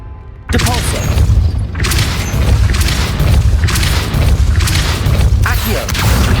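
A Depulso spell is cast in Hogwarts Legacy, setting off a loud sustained magical whoosh and rumbling booms that stay dense and continuous after a sudden start, with speech mixed in.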